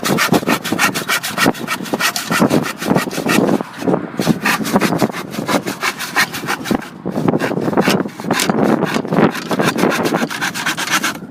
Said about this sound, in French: Donc c'est des bonnes planches à scier, elle est bien sèche.